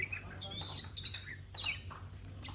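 Several birds call and chirp in bright, quick bursts, some close and some farther off, over a low steady background hum.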